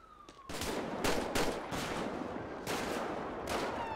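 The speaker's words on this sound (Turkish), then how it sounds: "Oha, pompalı çekti bizimkiler." Loud, close shotgun blasts in the video game GTA 5, a handful of heavy booming shots fired in an irregular sequence with short gaps between them.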